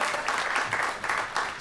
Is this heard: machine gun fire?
no